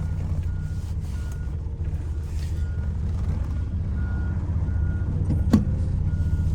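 Garbage truck handling bins nearby, its steady reversing beeps repeating over a low diesel rumble, with one sharp metallic clank near the end.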